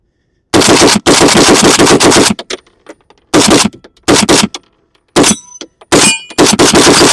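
A PSA AK-103K rifle fed from a Bellum magazine fires in loud rapid bursts, a long string of shots followed by several shorter bursts separated by pauses, with metallic clinks between them.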